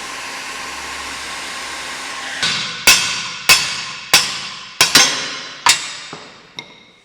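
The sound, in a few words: heat tool heating a stuck ATV part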